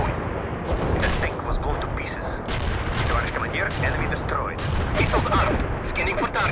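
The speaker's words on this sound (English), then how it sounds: "Commencing the barrage. Artillery strike on the way." A continuous artillery barrage in the video game World in Conflict: dense, overlapping booms and crackling explosions pile up loud and close for the whole stretch, with radio-style voices talking over the bombardment.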